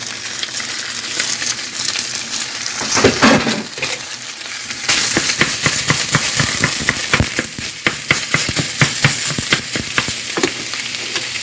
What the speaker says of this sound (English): Then I'm going to add 1 pound of ground turkey. It's going to sizzle.